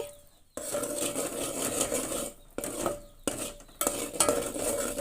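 A sticky sesame chikki mixture with a spoonful of ghee being stirred in a pan, heard as bursts of scraping and rasping spoon strokes separated by short silent gaps, close up with no talking.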